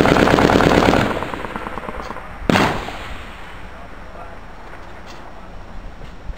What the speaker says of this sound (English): Is that the 50 cal? Like it's malfunctioning?